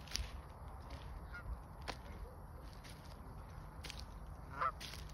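Ducks near a field at a conservation area in Whitby, Ontario give a few short, fairly distant honks over quiet outdoor ambience.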